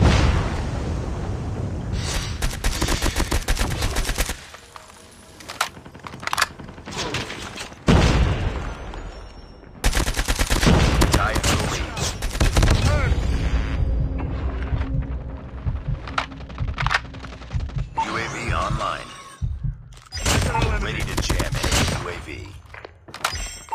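Bursts of ASM10 (AN-49) assault rifle fire in Call of Duty: Mobile, loud and close in short three-round volleys mixed with explosive booms, thuds and game voice callouts over a continuous battle bed.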